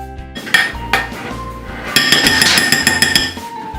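Cheesecake base ingredients being mixed in a bowl, a spoon clinking and scraping against the bowl in quick irregular knocks, a dense run of rapid clatter in the second half, close and fairly loud.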